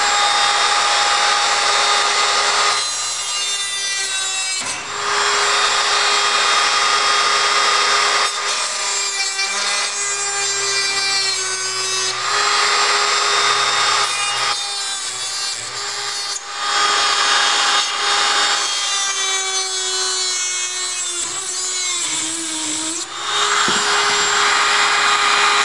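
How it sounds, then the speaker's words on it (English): A rotary cutoff tool grinds through metal stock clamped in a vise to make hexapod servo brackets, a loud continuous high-pitched whine that dips and rises as the cut loads and eases. "in our vise, taking a rotary cutoff tool. Let's now cut out"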